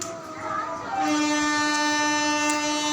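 A train horn blares, loud and sustained, over the rumbling of a moving train; the horn swells after the first second and holds steady.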